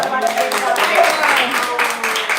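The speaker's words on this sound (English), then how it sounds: "Can we please have another big round of applause for our speaker, Grace" Applause from an audience at a talk in the Bhakti Center, a dense, steady wash of clapping filling the whole moment at close range, with no speech over it.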